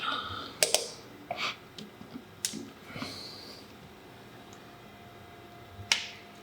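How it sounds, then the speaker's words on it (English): A spark plug wire boot snaps onto the ignition coil of a Harley-Davidson Milwaukee 8 engine, heard as several sharp, close clicks and handling noises spread across a quiet workshop background. "You could hear that definitive click a lot better on that one."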